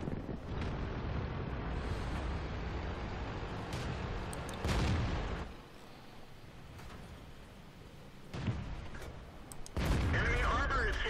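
Cannon fire from heavy tanks in World of Tanks, including the T34, Lowe, FCM 50t and TOG II. Several loud broadband blasts and booms stand out over constant wind-like rumble, and a voice is heard between them.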